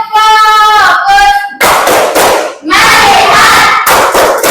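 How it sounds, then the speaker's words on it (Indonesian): Students at school chant loudly together in a rhythmic tepuk fokus routine, with bursts of group voices and sharp unison claps separated by short pauses. "Nah, sekarang tutup dengan tepuk fokus."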